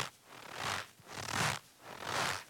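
Cornstarch squeezed in a rhythm of three slow crunching compressions that imitate footsteps in snow, each a soft gritty squeak-crunch, close and quiet with no talking.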